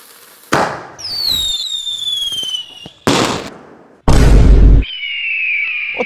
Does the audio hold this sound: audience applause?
no